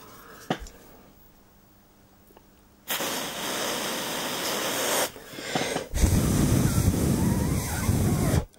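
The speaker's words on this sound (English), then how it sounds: "That's what I'm using, freezer spray." Freezer spray hisses in two long, close bursts onto a chip on a Samsung TV board, separated by a short pause, after a quiet stretch with a faint click.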